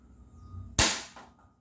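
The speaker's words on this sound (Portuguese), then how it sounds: "Primeiro tiro." A single sharp gunshot fired at an indoor target, a sudden loud crack that decays over about half a second with a brief echo off the walls, following near silence.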